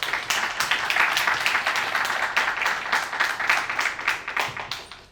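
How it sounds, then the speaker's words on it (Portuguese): An audience gives a speaker at a talk on Hayek's economics a sustained round of dense, lively clapping, fairly close and unbroken, with no one speaking. "uma salva de palmas aí para o nosso palestrante Zappellini."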